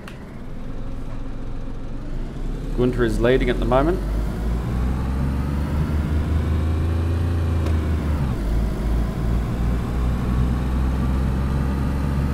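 Small air-cooled Saka car in DayZ, its engine rumbling low and steady as it drives, with a brief revving whine early on; someone talks over it.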